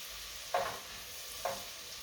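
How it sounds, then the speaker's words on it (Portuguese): Onion frying in butter for a lemon chicken risotto, stirred in the pan: a steady soft sizzle with two brief scraping strokes of the spoon, close and moderately quiet, no talking. "a gente vai fritar a cebola, sempre misturando para a cebola não queimar"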